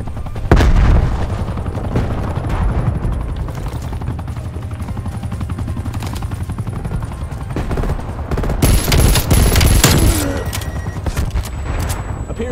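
Grenade blast and gunfire in Call of Duty Black Ops Cold War, with dense loud bursts of shots and heavy booms, a big explosion swelling near the middle, and sharp cracks and rattling fire toward the end.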